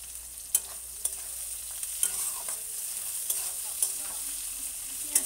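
Onions frying in hot oil with whole garam masala, bay leaf and panch phoron, a steady soft sizzle broken by sharp clinks of a spoon stirring the pan at regular intervals.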